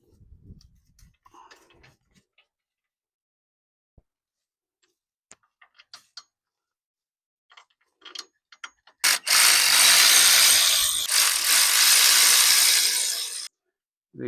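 A ratchet tightens new hub bolts on a 2017 Chevrolet Silverado front hub: a few faint clicks, then a loud, steady run of rapid close ratcheting lasting several seconds before stopping.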